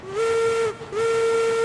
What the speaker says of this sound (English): pull that whistle for some good luck